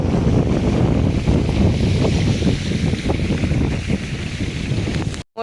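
Strong wind buffeting across an open farm field during irrigation, a loud, continuous rumbling roar that cuts off abruptly at the end, with no speech.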